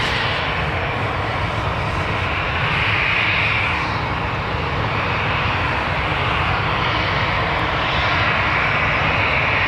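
An airliner passes close at Newcastle Airport, its loud engines holding a steady broadband roar with a slowly shifting whine that rises and falls over several seconds.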